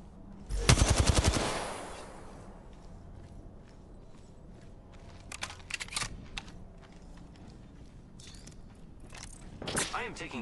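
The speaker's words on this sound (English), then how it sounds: "I am taking fire, friends." Automatic weapon fire in the Apex Legends battle royale shooter, a loud rapid burst near the start followed by scattered shorter bursts and clicks, with another burst near the end.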